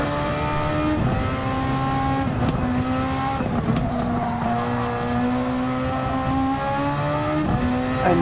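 Race car engine in Gran Turismo 7 on the Tokyo Expressway, a loud, close, sustained whine that rises steadily through gears with short drops at each shift and no talking.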